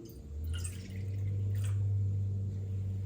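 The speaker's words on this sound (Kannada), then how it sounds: "ಇದಕ್ಕೆ ಒಂದು ಮುಕ್ಕಾಲು ಕಪ್ಪಷ್ಟು ನೀರು ಸೇರಿಸ್ಕೊತಿದ್ದೀನಿ" About three-quarters of a cup of water splashes and trickles into a pan of sugar for a couple of seconds over a steady low hum, faint and close.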